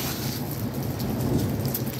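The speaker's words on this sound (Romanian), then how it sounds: "Ploaia și gheața au alternat în reprize vijelioase." Heavy rain and hail pound down during a violent storm with thunder, a dense continuous roar of falling water and ice that stays loud and unbroken throughout, with no voices.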